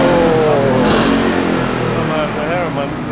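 A new Ford Mustang engine burbles and revs up close, with a loud, rumbling rise and fall as the throttle is blipped, while people talk over it excitedly.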